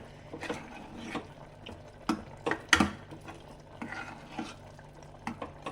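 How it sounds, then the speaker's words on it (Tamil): A metal ladle scrapes and mashes soft cooked lentils in a pot, with a few sharper clinks against the sides, close up and fairly quiet. "இப்போ நம்ம வந்து கரண்டியில் இதை மதிச்சுக்கலாம்"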